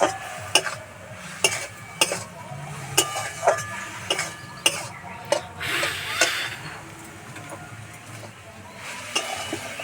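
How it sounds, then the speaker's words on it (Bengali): Beto greens cooked with a little flour and sugar are stirred in a pan, the spoon knocking and scraping in a quick, uneven rhythm over a low frying sizzle, close and fairly loud. "ময়দা দেওয়ার পর কিছুক্ষণ এইভাবে নেড়ে নিয়েছি"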